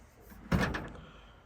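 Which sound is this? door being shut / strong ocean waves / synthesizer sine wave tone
door being shut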